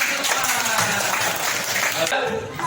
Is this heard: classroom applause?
yes